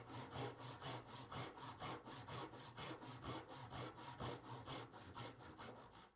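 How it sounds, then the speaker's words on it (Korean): A hand saw cutting a wooden tenon in a joinery workshop, fast regular back-and-forth strokes with a rasping, even rhythm, close and fairly quiet, with no voices. "요 앞쪽을 보고 톱질을 하는 거죠"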